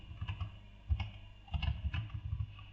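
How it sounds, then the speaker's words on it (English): Fingers tap keys on a computer keyboard in short irregular bursts of close, crisp clicks, a few quick strokes followed by a pause and another flurry, with no talking. "we enter 1 on our keyboard and we click enter"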